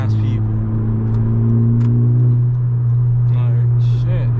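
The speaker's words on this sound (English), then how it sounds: "Hard pull. Oh yeah, we're moving." A Honda Civic Si turbo engine drones loud and steady from inside the car during a hard pull, a deep continuous hum with faint higher whines near the end.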